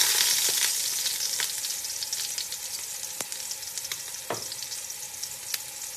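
Scallops sear in a frying pan with a steady bright hiss and occasional small pops and taps, close and even, with no talking.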